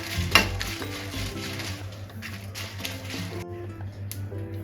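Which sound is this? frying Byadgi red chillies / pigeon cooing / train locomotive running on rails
frying Byadgi red chillies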